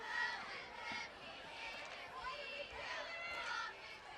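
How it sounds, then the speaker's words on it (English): A dense crowd roars and babbles without pause in the stands at a Prairie Grove vs Pottsville high school football game. The steady rumble of many voices holds at one level, and commentary talk runs over it. "The crowd saying, what are we doing?"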